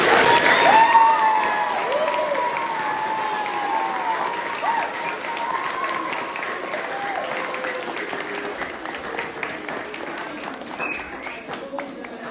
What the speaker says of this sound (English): And to give her a big round of applause.